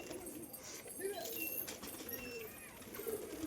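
Pigeons coo in soft, low murmurs at a moderate distance while birds are out flying overhead, with a faint voice mixed in and some higher chirps scattered through the steady background.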